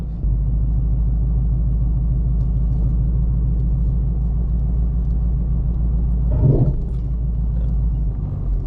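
A 2017 Ford Mustang GT with a roof cargo carrier drives steadily with a loud, constant low engine rumble and road drone, with a brief louder thump partway through.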